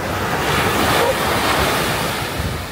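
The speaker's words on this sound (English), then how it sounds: "Just enjoy the sound of the beach" Ocean waves breaking on the beach at San Sebastian, Spain, a loud, close wash of surf rolling in with gusty wind buffeting the microphone and no talk.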